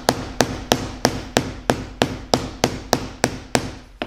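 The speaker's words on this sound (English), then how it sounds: "I'm just gonna use this hammer, and you tap it, and then do it on both sides." A hammer taps leather over a hand-sewn saddle stitch to flatten it, striking about a dozen evenly spaced, sharp blows close by, one every third of a second, with no voices.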